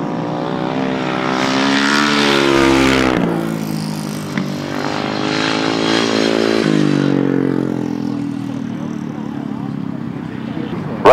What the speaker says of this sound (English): Some super 500 sidecar action coming up in race number 8.